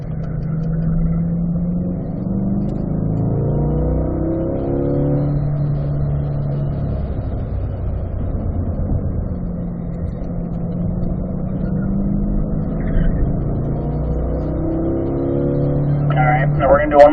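A car laps a race track, the engine droning steadily from inside the cabin as revs rise and fall through the curves, with continuous talk over the top.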